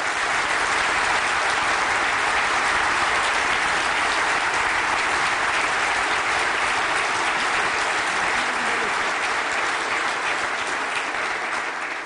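A conference audience gives sustained applause for the residents of Ashraf, a dense, even wash of many hands clapping that holds steady at full strength without a break.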